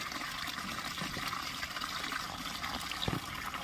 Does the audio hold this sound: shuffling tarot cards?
no